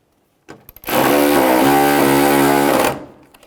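A power tool buzzes in one loud, continuous two-second burst while backing out a 10mm bolt during headlight replacement on a 2010-2017 Chevrolet Equinox, with a few clicks and handling knocks before and after.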